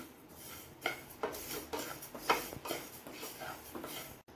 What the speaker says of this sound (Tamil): இதை ஒரு மணம் வர வரைக்கும் நல்லா இப்படி வறுத்து விடணும்.